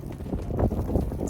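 Steady wind buffets the microphone in low, rumbling gusts near a snowy mountain top, a continuous blustery roar with no voices.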